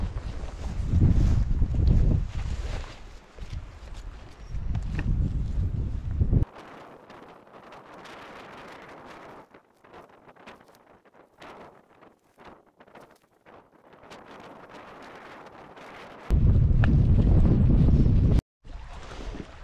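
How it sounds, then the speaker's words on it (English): Gusting wind on a damp morning in the Newfoundland wilderness buffets the microphone in loud rumbling bursts, dropping to quieter rustling stretches between them, with no talk. "windy, damp morning out"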